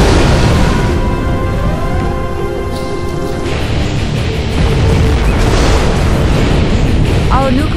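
A nuclear missile launch in the real-time strategy game Command and Conquer Zero Hour, in a China tank general match, gives a loud, sustained rumbling blast that fills the whole stretch, with a game voice line heard over it.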